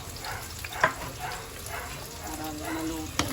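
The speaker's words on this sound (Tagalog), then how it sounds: "Ilagyan na natin yung ating dahon sibuyas." Spring onion leaves dropped into sizzling misua noodle soup with tofu and shrimp, a steady frying hiss with a couple of sharp clatters from stirring, close and moderately loud, no talk.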